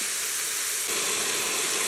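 Hamburger meat cooking in a pan gives off a steady broadband hiss of steam and sizzle, continuous and close, with no talking.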